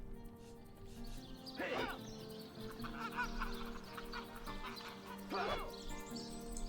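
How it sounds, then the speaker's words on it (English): A rooster in the Divinity: Original Sin video game gives two short, bright clucking calls over a quiet ambient game backdrop with a faint steady hum. "Don't let that rooster escape."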